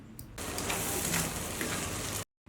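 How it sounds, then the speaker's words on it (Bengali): Garlic cloves fry in a pan with spices and mustard paste for a pickle, giving a steady, bright sizzle that starts abruptly and runs evenly until it suddenly cuts off. "এবার এই মশলার সাথে রসুনগুলোকে চার থেকে পাঁচ মিনিটের মতো ভালোভাবে কষিয়ে নেব"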